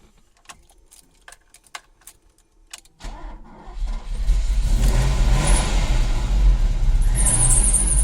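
A few faint clicks and rattles, then an engine cranks and catches around three seconds in, settling into a loud, steady idle rumble.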